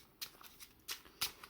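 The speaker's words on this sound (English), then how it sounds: "So shuffling." A deck of Yu-Gi-Oh cards from a Branded Bystial duel deck being shuffled by hand, with three or four short riffling bursts separated by brief quiet gaps, close and fairly soft, with no talking.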